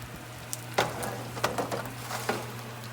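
Freshly oven-baked chicken wings sizzle faintly on their tray, with sparse soft crackles and pops scattered over a steady low hum, close by and quiet, with no one talking.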